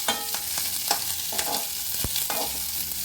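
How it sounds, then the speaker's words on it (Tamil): Tender drumstick chutney ingredients sautéing and being stirred in oil in a pan, with a soft continuous sizzle and repeated scraping stir strokes close by. "எல்லாம் வந்து நல்லா எண்ணெய் விட்டு வதக்கிடலாம்"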